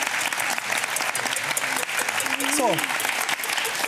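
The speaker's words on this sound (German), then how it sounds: "Ein Applaus für diese Osternest." Studio audience applause on a German TV cooking show, a steady wash of clapping running throughout while a voice briefly speaks over it.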